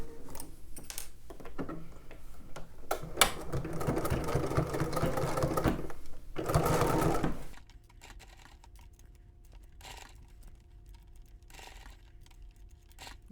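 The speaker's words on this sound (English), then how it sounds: "go ahead and baste down your collar at your neck edge." A sewing machine runs in a steady rapid stitching burst while basting a collar down along a garment's neck edge, then stops, leaving a quieter room with faint handling noises.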